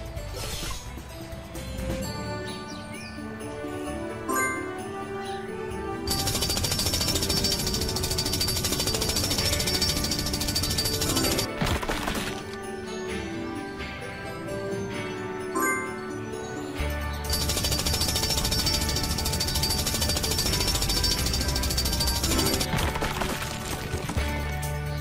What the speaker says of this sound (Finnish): Auta Rubblea raivaamaan tie porallaan. Poraa!